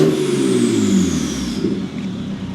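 A BMW 535Xi E60 with a misfire fault revs up loudly and close by, its engine tone rising then falling back toward idle over a couple of seconds.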